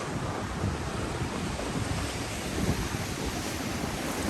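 Sea waves wash ashore on an Australian coast as a continuous broad roar of surf, with wind buffeting the microphone throughout.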